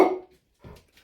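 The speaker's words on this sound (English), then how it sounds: "What's he barking at?" A dog barks indoors in a home kitchen. One sharp, loud bark comes first, then two fainter, shorter sounds follow with quiet in between.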